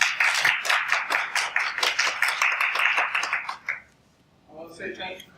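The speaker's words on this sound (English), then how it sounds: "Give her another round of applause." Audience applause fills a room, a dense patter of many hands clapping close and loud for several seconds before fading, then a person begins speaking.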